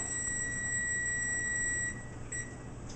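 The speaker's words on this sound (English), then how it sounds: "whoop, there goes my alarm" A household alarm rings out as steady high-pitched electronic beeping tones, sustained for several seconds over a quiet room with a soft hum underneath, then briefly wavering and dropping near the end.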